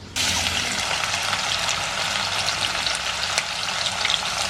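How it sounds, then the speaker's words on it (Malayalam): Slices of bitter gourd hit hot sunflower oil, and a loud, close frying roar starts almost at once and holds steady with crackling and bubbling throughout, no one talking. "കുറേശ്ശെ പാവയ്ക്ക നമുക്ക് എണ്ണയ്ക്കകത്തോട്ട് ഇട്ട് കൊടുക്കാം"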